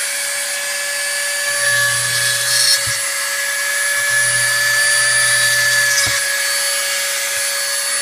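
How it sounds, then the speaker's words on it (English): A steady high-pitched whine of a Dremel rotary tool drilling two holes runs throughout, with a low hum rising and falling in two longer bursts and a couple of sharp clicks. "So what we're going to do, we're going to get the Dremel going,"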